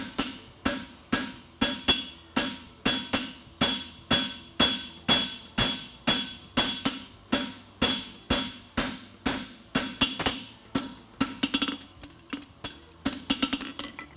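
Steady ringing hammer blows strike a horseshoe being flattened on an anvil horn by a championship blacksmith, the regular metallic clanks near and clear before breaking into quicker, lighter taps at the end.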